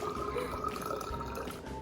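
Water poured from a large jug into a bottle, a steady close trickling and gurgling stream that runs without pause for nearly two seconds, with no talk over it.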